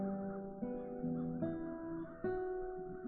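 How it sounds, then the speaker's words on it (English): Several crows caw in The Dark Eye: Chains of Satinav, a run of harsh, nasal calls repeating in quick succession, close and fairly loud, with no talk over them. "Those crows stem from the nether hells."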